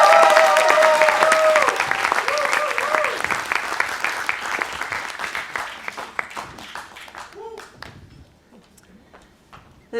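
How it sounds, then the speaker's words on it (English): Clapping from a demo day audience, loud and dense at first with a few whoops, then thinning out and tapering to scattered claps and near quiet by the end. "Guys, let's applause for our lead operations associate, Sabine."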